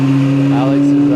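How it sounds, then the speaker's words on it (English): Fully modified Mini Cooper running on a dyno, its engine holding a steady droning tone loud and close for about a second, with a voice speaking over it. "Alex is running the dyno right now."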